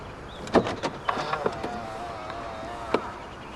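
Door locks of a 2011 Volvo S40 2.0 release via keyless entry when the handle is grabbed, giving a quick cluster of sharp clicks and handle rattles, a brief whirring, then one final click, all close by.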